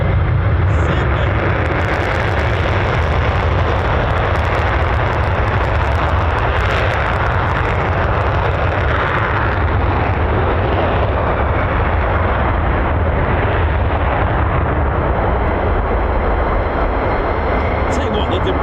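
An F-15 or F-35 fighter jet takes off at RAF Lakenheath, a powerful sustained roar of jet engines filling the air loudly and steadily, while someone talks over it.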